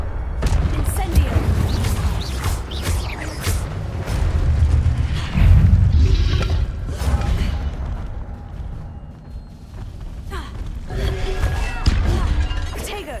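A spell-cast burst of fire from Incendio in Hogwarts Legacy, heavy booming impacts and crashes over dense game noise, with a voice speaking now and then.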